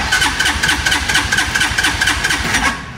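A tiny car's small engine runs steadily with a rapid, pulsing rhythm, loud and close, then fades slightly at the end.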